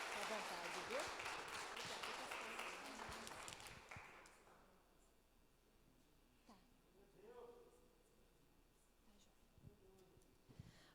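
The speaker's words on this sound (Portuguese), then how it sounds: "Quem abençoou e vai receber, aplauda o Senhor já agradecendo, no nome de Jesus." A church congregation applauds during a service, a loud burst of clapping that fades out after a few seconds, followed by quiet room tone with a voice speaking.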